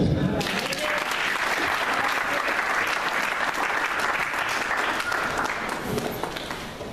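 A church congregation applauding in praise of God, sustained dense clapping from a large crowd that holds steady and loud throughout before easing slightly near the end.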